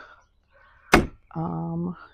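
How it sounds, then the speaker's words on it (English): The enclosure door on a 2021 Can-Am Commander XTP side-by-side opens with a single sharp close thunk, followed by someone talking. "you don't have to unzip it to open a door. It just opens."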